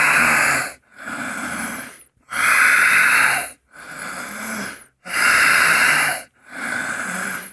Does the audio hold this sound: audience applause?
no